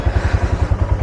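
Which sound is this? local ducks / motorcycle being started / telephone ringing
motorcycle being started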